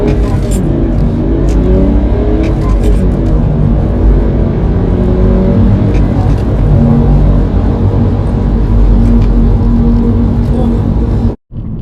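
A remapped BMW E91 with DPF, EGR and swirl flap delete accelerates hard on a 0-60 run, loud engine rumble and road roar building steadily from inside the car, cutting off abruptly at the end.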